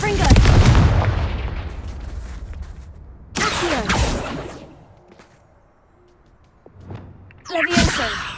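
The Confringo fire spell goes off in Hogwarts Legacy with sharp booming blasts and whooshing bursts, a loud hit at the start, another after a pause and a final burst near the end, with quieter game sounds between.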